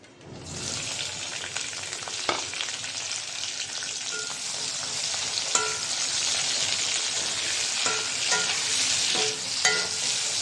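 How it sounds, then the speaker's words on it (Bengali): Prawns fry in hot oil with a loud, continuous crackling sizzle up close, broken by occasional sharp clicks of a spatula stirring the pan. "তেল দিয়ে দিলাম চিংড়ি মাছটা ভেজে নিব"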